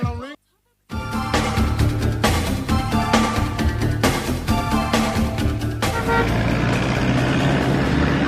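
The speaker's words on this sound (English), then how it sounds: "When you hear those horns, you know what time it is." School bus horns honk repeatedly in a dense, loud blaring run of overlapping tones with a steady pulse. A voice talks over them and the horns carry on underneath to the end.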